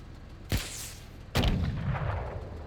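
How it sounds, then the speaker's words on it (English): RPG launched at a bunker in the strategy game MENACE: a sharp launch blast, then under a second later a heavy booming explosion with a long rumbling tail. "shoot the RPG at the bunker"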